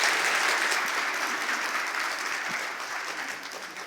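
A Korean church congregation in Orange County applauds during a worship service to welcome a guest pastor, with steady, dense clapping that fades slightly toward the end.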